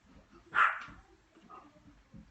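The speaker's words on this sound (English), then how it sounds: "Now he has my little Cujo dog going. She's a Yorkie." A small Yorkie gives one sharp, yappy bark, followed by a couple of fainter yips against a quiet indoor background.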